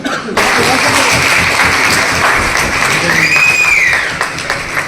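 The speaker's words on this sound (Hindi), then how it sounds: "तालियां जब बजाएंगे आपको लगना चाहिए कि तालियां बज रही हैं" Sustained applause from an audience at an Urdu literary gathering in Aurangabad, a dense, steady wash of clapping held at even loudness for several seconds before easing off at the end.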